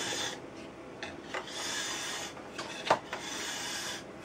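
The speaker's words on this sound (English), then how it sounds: "And again, you don't want to put too much pressure. Let the file do the work." A hand file makes light, short rasping passes along a ski's steel edge while sharpening the bevel, close and fairly quiet, a soft scraping with a few sharper strokes.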